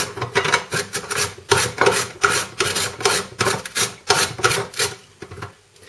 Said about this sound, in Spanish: Rallaremos las zanahorias